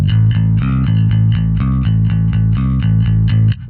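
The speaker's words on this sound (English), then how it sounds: "If I hit it hard, you can hear that it's distorted." Bass guitar played through a Headrush light drive distortion, a loud run of picked notes in a steady rhythm with a gritty, overdriven tone that cuts off at the end.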